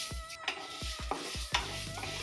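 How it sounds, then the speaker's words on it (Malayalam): Washed rice dry-roasting in a pan, with sharp scraping stirs every half second over a soft sizzle, close and fairly quiet, no voices. "കഴുകി വെച്ചിരുന്ന അരി ഒന്ന് വറുത്തെടുക്കണം."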